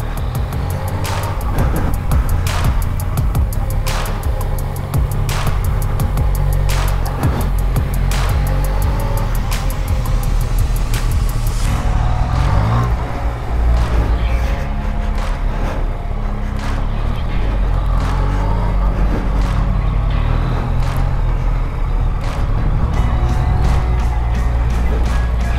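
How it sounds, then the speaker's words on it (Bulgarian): Yamaha MT motorcycle engine running steadily through slow riding drills at Separeva Banya, a continuous loud drone with shifting revs and no speech. "Все пак МТ-то не е най-спокойният мотор за целта"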